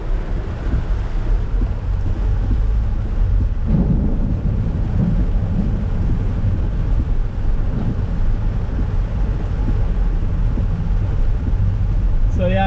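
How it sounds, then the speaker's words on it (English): Heavy rain pounds steadily on a car driving at night through flooded streets in Macau, with low thunder-like rumble throughout and a person talking over the continuous downpour. "you can't really drive in this area very well because the rain is so heavy"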